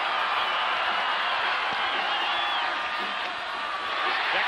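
Record crowd at the 1989 Miami Hurricanes versus Florida State Seminoles night football game, a steady distant roar of cheering and whooping under a broadcast commentator's voice.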